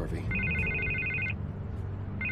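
A telephone rings in the Batman Telltale video game, giving two bursts of a bright electronic trill over a low musical score.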